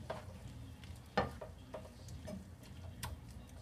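A pescatarian meal cooks down in a pan with a soft, steady sizzle, faint and close, broken by a few light clicks and scrapes.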